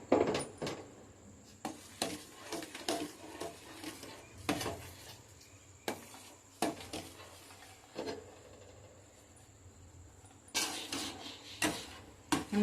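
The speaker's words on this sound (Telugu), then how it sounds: "పిండి వేసుకుందామండి. కొద్ది కొద్దిగా వేసుకుంటూ కలుపుకోవాలి." A utensil stirs flour into melted jaggery syrup in a pot, with repeated scraping and clinking strokes against the metal at an uneven rhythm, fairly quiet and close, with no talking.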